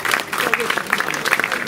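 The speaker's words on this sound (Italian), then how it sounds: "Facciamo un applauso." Brief scattered clapping from an outdoor crowd at the inauguration of a memorial park in Casoli, Italy, short irregular claps rising over light background murmur.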